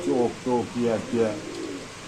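A pigeon coos close by in four soft, throaty, rhythmic phrases, each a low rolling call separated by short pauses.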